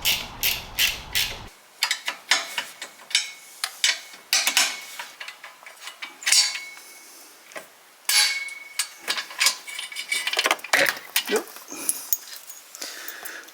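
A wrench ratcheting to loosen the turbo downpipe on a turbocharged Toyota GR86, quick metallic clicking bursts up close, with someone talking over parts of it.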